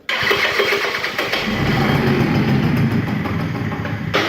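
A 50cc Mini Rex engine starting up close: a brief cranking catch, then a loud, steady, buzzing small-engine run that holds through to the end.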